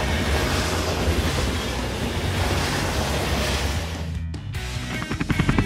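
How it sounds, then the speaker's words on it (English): A train rolls past with a loud, continuous rushing roar and rumble, ending in a rhythmic clickety-clack of wheels over rail joints. "Yes, it's a train."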